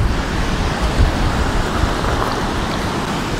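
Strong wind roars across an Egyptian seaside in December, a dense, continuous rush buffeting the microphone with low gusty thumps and a surf-like wash, no voices.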